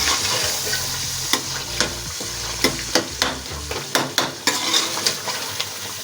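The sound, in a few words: stirring masala frying in a karahi for chicken karahi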